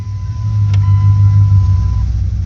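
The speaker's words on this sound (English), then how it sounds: "Start the engine." Car engine starting and settling into a steady, loud idle during a 46RE transmission pressure test, a constant low drone with a thin whining tone above it.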